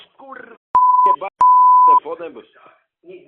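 Two long, loud steady telephone dialing beeps sound one after another in a Polish Peppa Pig cartoon parody, with cartoon voices speaking before, between and after them.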